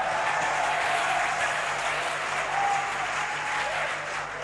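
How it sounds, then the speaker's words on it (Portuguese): A church congregation applauds the pastor at a worship service, a steady, dense wash of clapping sustained throughout at close range, with faint voices mixed in. "Vamos, aplauda ele forte"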